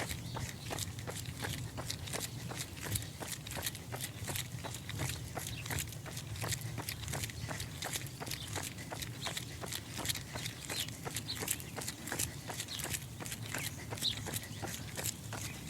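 Steady, rapid footfalls thud at an even running pace, close by and continuous, with a faint outdoor hum behind them.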